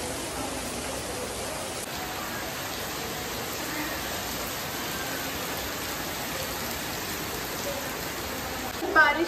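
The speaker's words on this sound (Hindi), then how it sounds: "बेमौसम की बारिश आ रही है" Steady, even hiss of unseasonal rain falling in Haridwar throughout, constant and fairly loud, with a faint brief clatter near the end.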